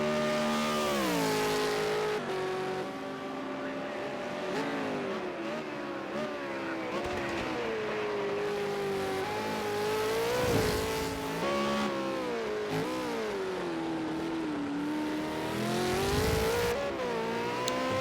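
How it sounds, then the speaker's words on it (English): A battered Sakian Racing V8 Supercar in the Super2 series round at Long Beach, its engine note rising and falling steadily through gear changes, loud and close throughout with no talk over it. "Beaten up Sakian Racing automotive car."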